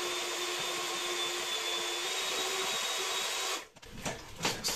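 An electric mixer stirring alginate in a container, a steady high whirring drone that runs loudly and evenly, then cuts off abruptly, leaving scattered clunks and scrapes.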